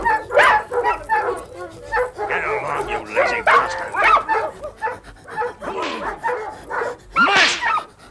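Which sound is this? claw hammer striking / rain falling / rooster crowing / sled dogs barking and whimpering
sled dogs barking and whimpering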